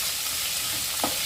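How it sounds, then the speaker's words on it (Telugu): Onions and green chillies stir-fry in a pan, giving a brief, soft, continuous sizzle with a single stirring scrape near the end. "పచ్చిమిరపకాయలు కూడా వేసుకొని ఈ మధ్య వరకు కూడా మనం కలుపుకుంటూ వేయించుకోవాలి."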